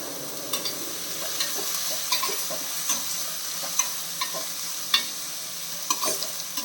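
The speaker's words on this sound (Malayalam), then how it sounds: "നല്ല രീതിയിലൊന്ന് ഫ്രൈ ചെയ്തെടുക്കണം സവാള." Onions with curry leaves fry in a pan over a medium flame, giving a steady close sizzle broken by sharp scraping stirs that return every second or so.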